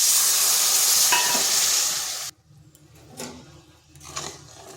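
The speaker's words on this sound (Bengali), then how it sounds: "এইভাবে অনবরত নাড়তে নাড়তে চিনিটা গলে যাবে।" Sugar and water being stirred in a wok to make syrup, a steady loud hiss for about two seconds that cuts off abruptly, followed by quieter intermittent scraping and stirring strokes.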